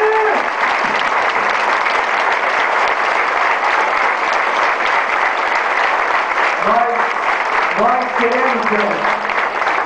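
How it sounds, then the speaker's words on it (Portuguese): A church crowd at a visit of the Nossa Senhora do Rocio image applauds, a loud continuous wash of clapping with a voice speaking over it partway through. "Vamos dar aí uma salva de palmas bem bonita, Nossa Senhora do Rocio. Mais forte!"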